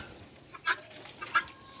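A hen on a poultry farm gives two short, close clucks about half a second apart over a quiet background.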